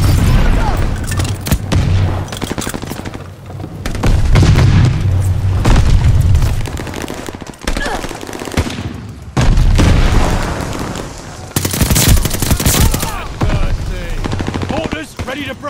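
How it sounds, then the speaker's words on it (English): Allied mortar fire in Call of Duty Vanguard, with repeated heavy booming blasts and bursts of gunfire across the span, loud and close, with voices mixed in. "Heads up! Allied mortar fire coming."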